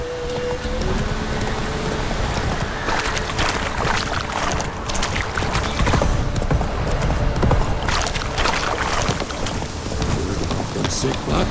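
Roach, the horse in The Witcher 3, gallops with a continuous drumming of hooves under rain-like ambience, with scattered voices speaking faintly over it.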